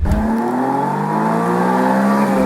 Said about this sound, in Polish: silnik tego auta potrafił się rozkręcić do 9300 obrotów na minutę